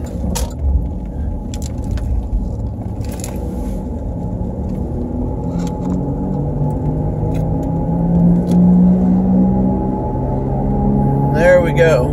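Car cruising on a highway with a worn-out wheel bearing, a steady low droning rumble that swells slightly louder toward the end, with faint voice traces over the constant road noise.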